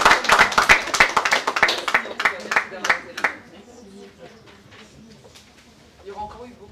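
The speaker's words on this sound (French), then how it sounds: "Applaudissements." An audience at a bookshop meeting applauds with dense, close clapping that fades after about three seconds. Quiet voices and murmuring follow.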